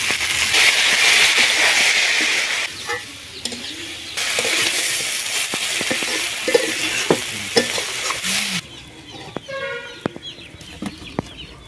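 Dry fish with tomato, ginger-garlic-cumin paste, chilli and turmeric powder frying in a pan, loud crackling sizzle with a spatula stirring and scraping, then quieter stirring near the end while a rooster clucks in the background.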